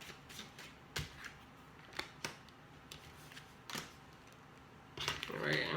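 Tarot cards being shuffled by hand, a series of short, close riffling snaps and clicks spaced about a second apart, building into a denser shuffle at the end.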